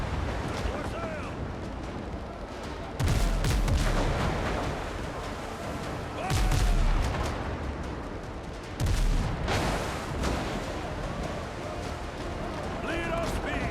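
Ship cannons booming in the pirate sailing game Windrose, three heavy blasts spaced several seconds apart over a constant background of sea and wind, with a voice talking between shots.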